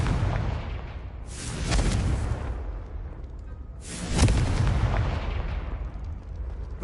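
Two loud Confringo fire-spell blasts from Hogwarts Legacy burst a couple of seconds apart, each a booming explosion with a crackling tail that fades into a low rumble.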